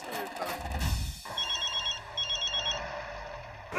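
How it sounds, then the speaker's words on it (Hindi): A telephone rings with a repeated electronic trill in two short bursts, heard in a Hindi comedy TV scene over a car's interior hum and background noise. "जेठालाल का फोन है, लगता है उसे पता चल गया कि सब लेडीज कहाँ है"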